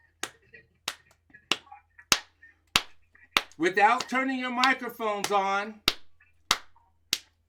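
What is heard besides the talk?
rhythm clapped with hands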